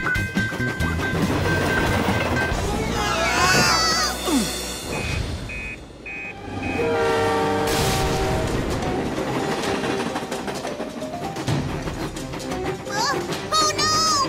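A cartoon train rumbles along and sounds its horn in a short series of tonal blasts, mixed with busy music, sound effects and animated character voices.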